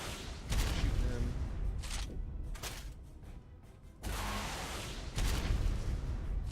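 Rocket launcher fire aimed at a lava golem in a game, with repeated loud bursts and booms in quick succession over a steady rumbling bed, some blasts broken by brief lulls.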